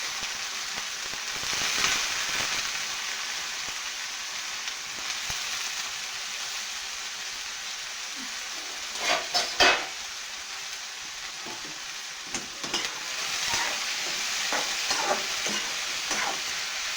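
Ridge gourd pieces fry and get stirred in reused oil left from making bhaji, a steady close sizzle with bursts of scraping and clatter near the middle and end, no voices.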